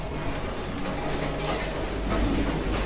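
The Chitra Express rumbles along its rails, a continuous dense rolling roar with faint rhythmic clatter underneath, steady and close, as if heard from inside a carriage, without talking.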